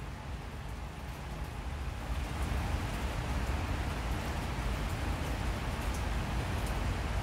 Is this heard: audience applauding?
no